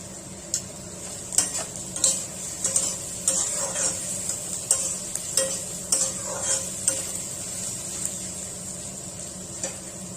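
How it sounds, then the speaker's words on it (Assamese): Curry leaves fry over a low flame in a pan, a steady close sizzle carrying irregular scraping stir strokes and light clinks of a spatula throughout. "2 মিনিট সময় ভাজি ল'লো লো ফ্লেমত"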